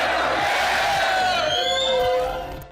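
A large crowd cheers and whoops loudly at a gathering welcoming a man, with dense, sustained roaring and shouts that swell and then fade out at the end.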